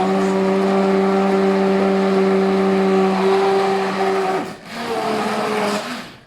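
A stick blender purees cauliflower soup with a loud, steady motor whine held close for several seconds, then dips and shifts pitch as the blade moves through the mix near the end.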